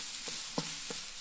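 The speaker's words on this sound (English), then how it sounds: "Okay, so we start frying that off." A steady, quiet sizzle of rice stir-frying in a hot pan on a Big Green Egg grill, with a few soft stirring clicks and scrapes.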